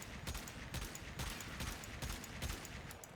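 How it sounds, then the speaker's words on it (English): Sharp pistol shots from the Warframe Lex Prime and Aklex Prime ring out in a steady rhythm, about a dozen evenly spaced cracks over a busy game background, fairly faint and with no talking. "So once again, shot by shot in a rhythm."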